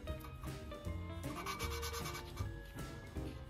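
An engine valve is being lapped into a Chevy 283 small-block cylinder head, a soft rhythmic back-and-forth grinding rub, quiet and close, repeating steadily.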